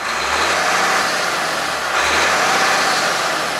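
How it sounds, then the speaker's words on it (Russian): A truck engine runs at an even idle, a steady broadband hum heard up close with a slight rhythmic pulse and no talking over it. "Но машина работает ровно."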